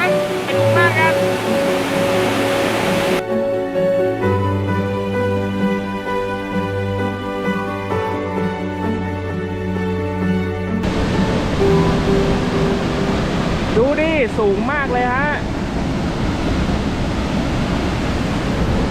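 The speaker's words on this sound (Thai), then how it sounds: "อนนี้ที่ผมยืนอยู่ตอนนี้นะอยู่ข้างล่างน้ำตก" A loud, constant roar of falling water from below the Haew Narok waterfall in Khao Yai, Thailand, with musical tones and a voice layered over the steady rush.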